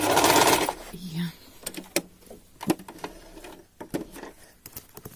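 Sewing machine running short back-and-forth bursts while stitching a backtack on a pillowcase made from a towel: a loud whir at the start, then intermittent clicks and brief runs, with a voice speaking in between.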